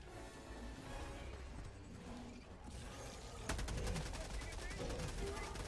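Video game gunfire crackles through a team firefight, first as a muffled, busy clatter and then as sharper rapid automatic bursts in the second half.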